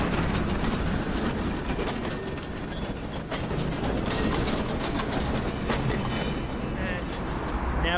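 Train at Newcastle rolling steadily past, loud and close, with broadband rail rumble and a sustained high-pitched wheel squeal running throughout, no talk.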